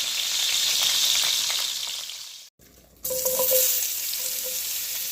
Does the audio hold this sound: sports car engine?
no